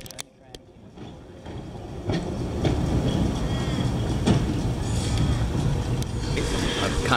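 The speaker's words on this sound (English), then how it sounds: "Oh, actually, you can see a tram" A tram in Western Australia rolls past nearby with a steady, swelling rumble and faint rail clicks, building up over several seconds.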